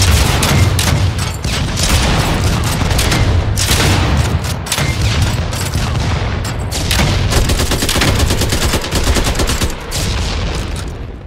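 Dense gunfire and booming grenade blasts from the video game Project Stray, loud and continuous with rapid overlapping shots and heavy explosions throughout, no talking.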